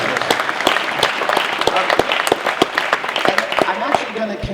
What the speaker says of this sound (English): let's have a round of applause for building more ladders